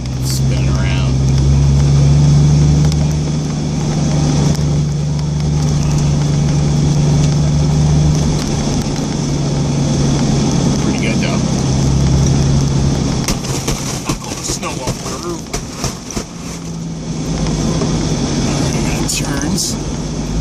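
A car driving and spinning donuts through deep snow on a residential block during a blizzard, its engine droning loud and close with a low steady hum and shifting revs, mixed with wind and crunching noise.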